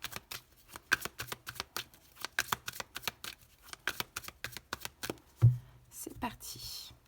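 Tarot cards shuffled and dealt out close up: a rapid run of crisp riffles and slaps in a steady rhythm, ending with a thump and a brief rustle.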